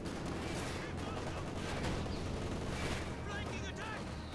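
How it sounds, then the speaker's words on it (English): An air strike in Company of Heroes 2, an OKW versus UKF match, sends a dense, continuous barrage of bomb blasts and gunfire crackling together for a few seconds, fairly quiet overall with no clear break. "First series of bombs going down."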